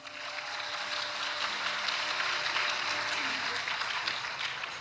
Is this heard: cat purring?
no